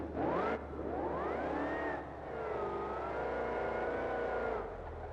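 A car engine in the BeamNG driving game revs up loudly, then its pitch climbs and sweeps in long rising and falling whines as it accelerates, heard alone and fairly close.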